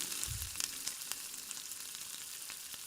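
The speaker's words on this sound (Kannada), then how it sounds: "ಎಣ್ಣೆಲಿ ಹಾಕಿ ಕರಿಯೋಣ." Cut nippattu rice crackers frying in hot oil give a steady, fine sizzling hiss with scattered crackles and a brief low splash early on, near and fairly quiet, with no voices.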